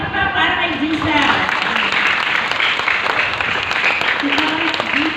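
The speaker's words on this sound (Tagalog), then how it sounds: "palakpak pa para kay Jesus" A church gathering with children present breaks into sustained audience clapping that runs the whole stretch, loud and close, while a voice speaks over the applause.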